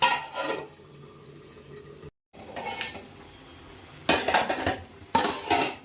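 A metal lid clatters onto a cooking pot of simmering fish curry, with several sharp clanks and scrapes, a brief silence in between, then two more bright metallic knocks near the end.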